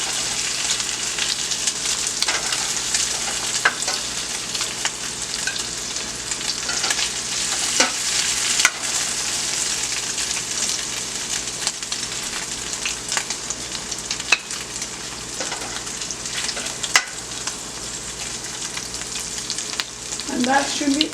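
Onions sizzle steadily in a pan left over from frying meatballs, a dense, close crackling hiss with occasional pops and stirring clatter throughout.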